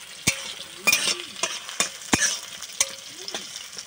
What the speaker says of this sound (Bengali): এরম করে আমি হালকা করে ভেজে নেব পেঁয়াজ